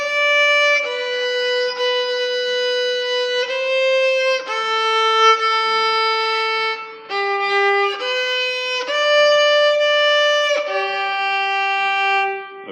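A violin plays the last four measures of Lightly Row as a slow, clear solo melody of sustained bowed notes, each step distinct, with no talking over it.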